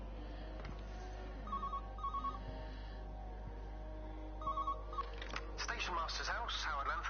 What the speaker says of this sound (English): There's a telephone ringing in here.